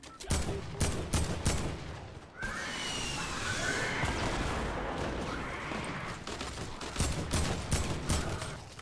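Double pump shotgun fire in a battle royale video game: loud rapid bursts of shots at the start, then a stretch of continuous rushing game noise, then more sharp shots near the end.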